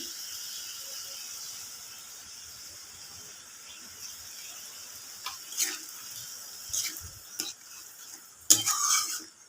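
Fried potatoes and salt go into a pan and are stirred, with a soft steady sizzle of frying under several scraping clinks of a spatula against the metal pan, growing busier toward the end.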